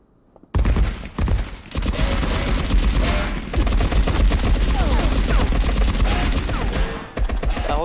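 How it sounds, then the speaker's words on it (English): Rapid automatic gunfire in a multiplayer shooter game, loud sustained bursts of machine gun fire after a brief quiet start, with short gaps between volleys and no talk over it. "He's shooting at me."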